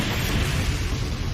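A big explosion attack in the video game Heroes Battlegrounds, a dense, roaring blast that fills the whole moment with a steady, loud rumble and no voices.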